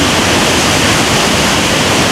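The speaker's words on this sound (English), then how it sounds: "here is still another further look at the Athabascan Falls. You can see the spray coming out. The boiling water" Athabasca Falls thunders as a dense, loud, unbroken roar of boiling water and spray, heard close and alone.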